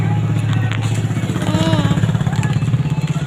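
A motorcycle engine putters close by with a steady throbbing rumble that swells slightly as it passes, while people talk over it.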